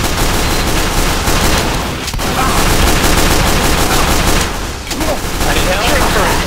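Loud, dense gunfire and booms in a video game battle, continuous volleys filling the mix with a player's voice calling out over it.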